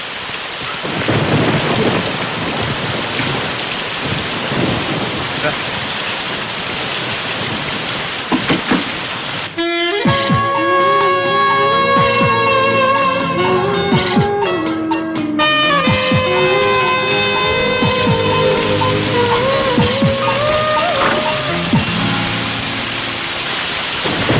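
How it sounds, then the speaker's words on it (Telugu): Heavy rain pours steadily in a thunderstorm, with loud thunder rumbling and cracking over it, while music swells in partway through. "వర్షం పడుతుంది"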